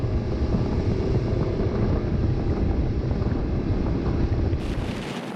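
A Joker Clubman 24 inflatable boat runs at 32 knots with its engine at 3,700 rpm, crossing waves. A loud, steady rush of hull, water and wind fills the whole stretch, with no talking.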